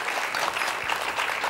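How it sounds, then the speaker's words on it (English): Studio audience applause on a TV cooking show, steady dense clapping from a crowd throughout, loud and continuous with no speech over it. "Round of applause for Arnold's chopped onions."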